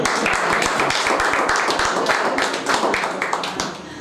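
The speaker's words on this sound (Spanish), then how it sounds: "un aplauso final" A final round of applause from a crowd at a Rotary club event handing out free eyeglasses to schoolchildren: dense, steady clapping that fills the room from start to finish, with no voices standing out above it.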